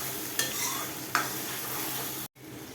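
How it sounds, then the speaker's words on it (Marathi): Finely chopped tomato frying in oil with cumin and asafoetida, a dense close sizzle broken by two sharp spatula scrapes, then a brief cutoff. "बारीक चिरला टोमॅटो टोमॅटो छान तेलामध्ये भाजून घ्या"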